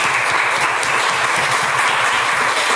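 Church congregation applauding during a worship service, a dense, steady wash of clapping from many hands, loud and close, with no speech over it.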